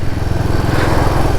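A Royal Enfield Himalayan 450 engine pulls in third gear while the bike rolls along, giving a loud, close, steady mid-pitched thrum with a fast pulsing beat and wind rush, and no voices.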